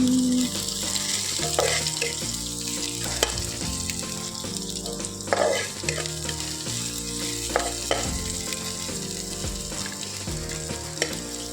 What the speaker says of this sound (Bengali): পেঁয়াজটা লাল লাল করে ভাজা হোক